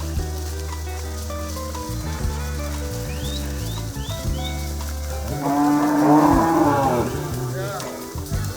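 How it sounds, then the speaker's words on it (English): Herd of cattle mooing on a mountain trek alongside goats and sheep, several low drawn-out moos overlapping, with one louder, nearer call rising near the end amid outdoor noise. "a trek up the mountains where a herd of cattle,"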